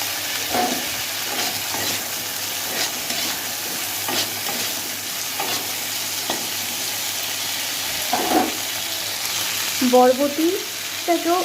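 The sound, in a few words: frying long beans in a pan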